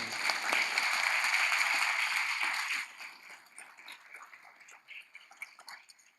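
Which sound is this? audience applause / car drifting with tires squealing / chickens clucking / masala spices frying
audience applause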